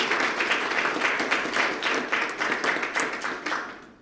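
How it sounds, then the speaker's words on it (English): Applause at a police promotional and badge-pinning ceremony, a modest crowd clapping with distinct pulsing swells, fairly close and steady, tapering slightly toward the end. "So give yourselves a round of applause for supporting these individuals"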